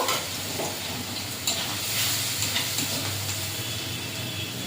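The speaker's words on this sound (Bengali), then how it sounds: "রসুনটা ভাজা ভাজা করে নেব" Garlic frying in oil with dried chilies: steady oil sizzle fills the clip, a continuous crackling hiss with occasional stirring scrapes, close and fairly loud, with no voices.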